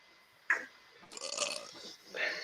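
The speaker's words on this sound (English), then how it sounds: "Don't force a burp like that." A forced burp during a drinking session, a short guttural belch bursting out loudly near the mic, followed by a few seconds of voices and noisy room sound.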